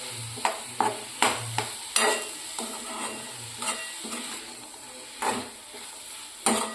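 Amaranth greens with peas sautéed in a pan, stirred in repeated scraping strokes over a soft sizzle, each stir a short clattering burst at close range, no speech.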